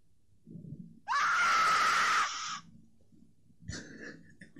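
A character in the video game Dragon Ball Z: Budokai Tenkaichi 3 lets out one loud, strained scream lasting about a second, with softer breathy grunts just before and after.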